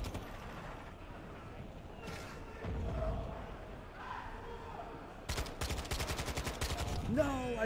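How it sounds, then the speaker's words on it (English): Gunfire from a gun in Call of Duty: Modern Warfare II: faint game sounds and talk give way to a rapid burst of automatic shots, closely spaced cracks lasting about two seconds, followed by a rising mechanical whine. "This is for sure the go-to gun."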